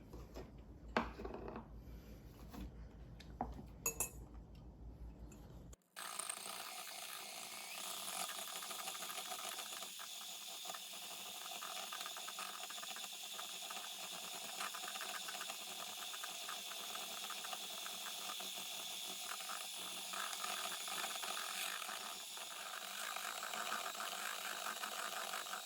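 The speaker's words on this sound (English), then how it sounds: "we're going to whisk them till they're nice and creamy" An electric mixer whisks eggs with sugar for dorayaki batter, giving a steady, high whirring hum after a few seconds of lighter kitchen sounds.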